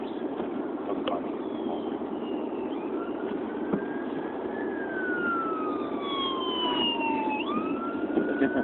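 Police car siren wailing at a distance with rising and falling sweeps over a steady hum of traffic or wind in snowy April weather, moderately loud throughout.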